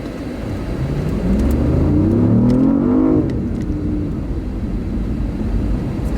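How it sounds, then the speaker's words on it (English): A BMW i8 hybrid sports car with electric motors accelerates on the road, a rising whine and engine drone that swells to a peak midway and then eases into steady road rumble. "This car's got a lot of pickup, a lot of torque from those electric motors."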